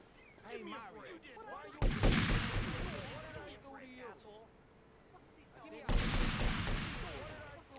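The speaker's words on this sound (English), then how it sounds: "What are you guys shooting at?" Gang gunfire in the video game GTA Vice City, two loud bursts of shots separated by a few seconds, with a voice talking throughout beneath and between them.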